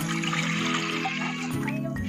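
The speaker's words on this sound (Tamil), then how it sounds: "இதுல நம்ம ஒரு கப் தண்ணி சேர்த்துடலாம்." A cup of water is poured onto washed sago in a pressure cooker for milk payasam, a short close splashing trickle that shifts slightly in tone as the pour ends.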